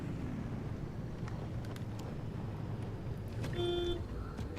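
Car horn in the driving game Pacific Drive: a short, steady tonal honk near the end, sounding over a constant rumble of engine and wind noise.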